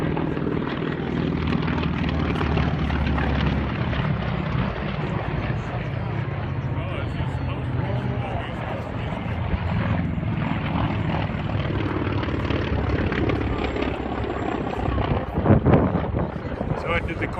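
A Drummond Wildcat propeller aircraft flies past at the Chino Planes of Fame airshow, its engine a steady loud drone over wind noise throughout, with a brief surge near the end.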